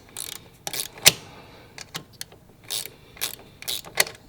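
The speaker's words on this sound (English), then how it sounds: "that's where the 5/16 wrench comes in, or socket, or whatever is easier for you" Socket or wrench ratcheting screws out of the plastic MCOR housing on a Club Car golf cart, heard as short bursts of close ratchet clicks with pauses between them.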